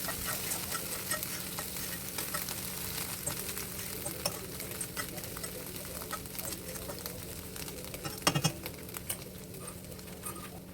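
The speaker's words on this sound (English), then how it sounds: "Keep stirring until the eggs are soft, fluffy and just cook through." Eggs scrambled in a pan over a low flame, with continuous soft sizzling and steady scraping of a utensil stirring throughout, a brief louder clatter near the end, close and even.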